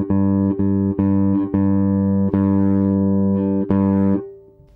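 Bass guitar run through a Caline Press Pass CP-59 bass DI pedal with clipping distortion, playing sustained, buzzy held notes with several re-attacks, loud and close, then fading out at the end.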